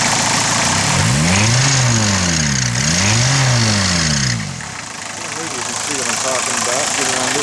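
A diesel engine revs up twice in rising and falling sweeps, loud and close, then settles back to a rough idle.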